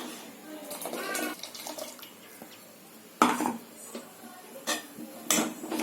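Ground coconut and cardamom paste is poured into sugarcane jaggery water, giving splashy liquid sounds and sharp clinks of metal vessels under nearby talking.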